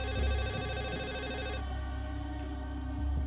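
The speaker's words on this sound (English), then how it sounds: "Phone rings" A telephone rings in a steady repeating electronic trill, loud and close, the bell pattern filling the space alone with no talking over it.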